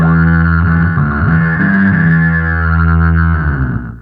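Electric guitar through effects pedals with the OC2 octave pedal switched off, a loud distorted synth-like sustained note with shifting harmonics, ringing about three seconds before fading out.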